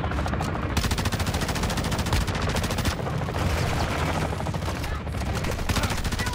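Rapid sustained gunfire in Call of Duty: Modern Warfare II DMZ, loud, dense bursts of automatic weapon shots hitting the player, continuous for several seconds with brief gaps.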